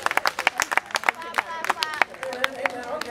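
Audience members at a talk clap their hands in scattered, uneven claps, fairly close, with crowd murmur and voices underneath.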